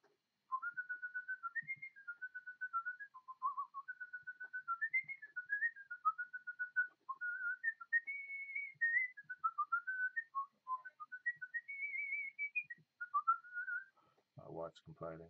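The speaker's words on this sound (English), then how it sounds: "I could whistle." A person whistles a wandering melodic tune, clear and close, a long run of short phrases with brief pauses, ending with a quick clatter of noise.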